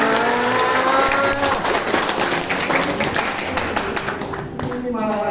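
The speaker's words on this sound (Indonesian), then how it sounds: "Seneng ya tepuk tangan." An audience at a syariah business marketing-plan event claps and applauds continuously, a dense spread of hand claps that carries on beneath a speaking voice.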